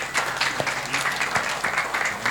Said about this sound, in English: I want a round of applause for this panel